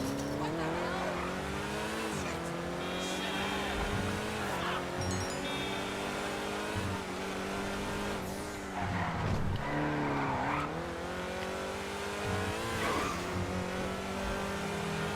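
A Grotti Cheetah Classic sports car races in GTA Online, its engine revving steadily and climbing through gears with occasional tire squeals, loud and continuous throughout.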